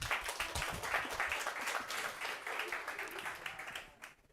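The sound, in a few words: students clapping in class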